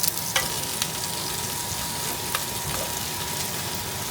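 Green onion and spinach sauté in a hot pan as a stuffing for salmon, giving a steady, close sizzle throughout with a few soft clicks from stirring.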